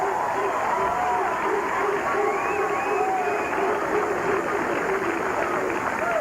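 A bowling crowd at the 1997 Ebonite Challenge cheering and applauding after a strike, a sustained roar of clapping and voices that holds steady throughout, with a commentator talking over it.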